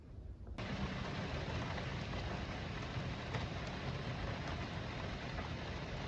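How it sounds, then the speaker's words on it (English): Rain falls outside a house, a steady faint hiss of drops heard from indoors that continues evenly throughout with no voices. "It just started raining, which I love, but it might come through the video a little bit."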